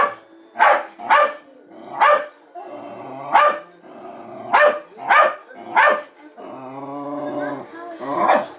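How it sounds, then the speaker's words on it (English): A dog barks close and loud in a repeated string of sharp single barks with short pauses, then a longer whining growl before a final bark. "there's nothing there to bark at"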